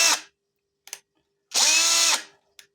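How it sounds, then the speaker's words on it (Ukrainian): A TexAC TA-CD30 cordless screwdriver spins in short bursts: a brief whir, a couple of quick blips, then a longer run of about half a second with a rising motor tone, and a final tiny tap. "Крутить в обидві сторони, перемикаємо на другу швидкість."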